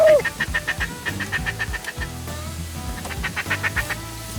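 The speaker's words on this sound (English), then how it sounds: "It was this massive flock of mallards, probably the biggest flock of mallards that I've ever had work on the cane beds, and they came in on a string." Big flock of mallards coming in over cane beds during a duck hunt, with repeated loud quacking and honking calls in quick runs, close and busy, alongside bursts of rustling and wingbeat-like thumps.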